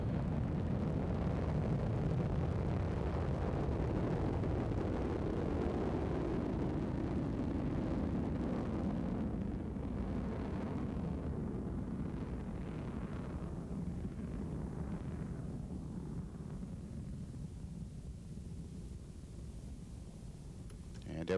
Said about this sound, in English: And we have liftoff of NASA's Aqua spacecraft designed to study the Earth's waters.